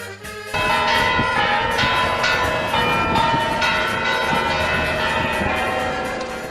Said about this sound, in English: You will shortly hear the ringing of the church bells.